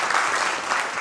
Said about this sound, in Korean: 우리 고정민 대표님 지금 오셨는데 우리 박수로 환영하도록 하겠습니다